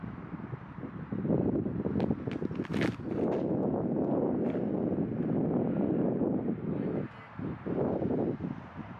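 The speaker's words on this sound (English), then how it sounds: "It's kind of windy right now" Wind buffets the microphone in loud, gusty rushes at Sunset Park in Las Vegas, Nevada, with a few brief rustles and knocks close by.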